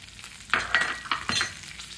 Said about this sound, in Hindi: अब इसको हम चला लेते हैं, भून लेते हैं, देख सकते हैं।